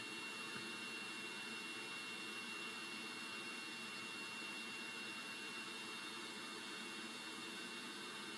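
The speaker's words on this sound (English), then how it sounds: "I guess we're just stuck listening to jet sounds." Jet engine in Kerbal Space Program, a steady, even roar with a broadband hiss and a thin high whine, unchanging throughout and without speech.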